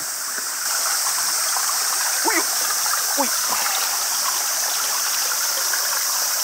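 A river flows steadily in a rural mountain area of Fukuchiyama, Kyoto, as a constant close wash of rushing water that runs under short spoken exclamations.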